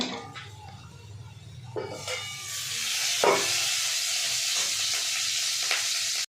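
Bottle gourd greens with salt and turmeric fry in a pan, the sizzle swelling louder partway through as they are stirred, with occasional utensil scrapes; close, steady, no talking.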